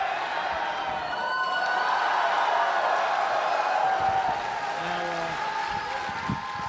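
Convention crowd of fans at SGC in Dallas, excited while waiting for a movie trailer: a steady, dense roar of cheering and crowd noise that holds throughout, with voices mixed in.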